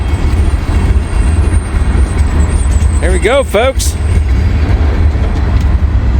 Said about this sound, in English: It's a big train here.